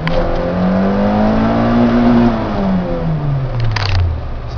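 A car engine revs hard at full throttle, the pitch climbing and holding high before falling away, loud and close, with a short hiss near the end and no talking.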